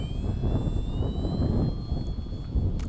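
A Hobby King Kinetic RC airplane makes a low pass, its electric motor a thin rising and falling whine over steady wind rumble outdoors, fairly faint and continuous.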